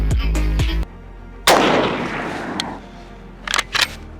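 Sharp, loud rifle reports from a 6.5 Carcano scout rifle fired on an outdoor range, one blast followed by a long rolling echo, then two quicker fainter shots close together near the end.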